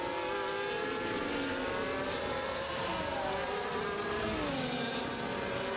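Ferrari and Mercedes Formula 1 race cars in a racing video game at Las Vegas, their high-pitched engines whining and shifting continuously, several cars overlapping in a steady close drone with no voices.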